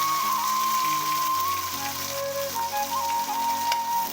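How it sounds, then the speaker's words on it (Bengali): Chopped onions, green chili and cumin frying in a pan, a steady crackling sizzle heard close, with a faint tonal hum running underneath. "ভালো করে একটু নাড়াচাড়া করে নেবো ফ্রাই করে নেব পেঁয়াজগুলো"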